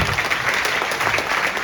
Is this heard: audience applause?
yes